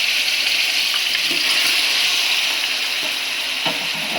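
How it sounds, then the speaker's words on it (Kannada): Chicken pieces frying in plenty of hot oil for a chicken sambar, giving a steady, loud, continuous sizzle with faint clinks of a utensil now and then; no one speaks. "ಈಗ ಎಣ್ಣೆ ಬಿಸಿಯಾಗಿದೆ, ಚಿಕನ್ ಹಾಕ್ತಾ ಇದ್ದಾರೆ."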